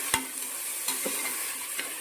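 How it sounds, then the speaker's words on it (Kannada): Tomatoes fry in a pan with a steady sizzle, while a few sharp scrapes and taps from stirring break through now and then, close and fairly loud with no talking. "ನೀಟಾಗಿ ಫ್ರೈ ಮಾಡ್ಕೊತಾಯಿದ್ದೀನಿ ನಾನು."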